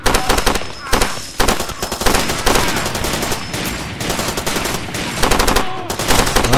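Rapid gunfire bursts from the video game Far Cry 2, loud and dense, with repeated volleys of shots crackling back to back across the whole stretch and a few brief pauses between bursts.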